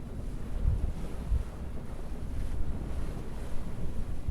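Strong due-west wind at sea aboard a sailing boat gusts and buffets the microphone, a loud rumbling whoosh mixed with rushing water against the hull.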